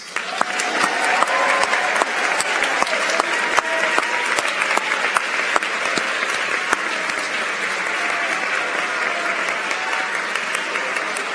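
Sustained applause from a seated audience at a school awards ceremony honoring a student team, many dense overlapping claps filling the room evenly and steadily from start to finish.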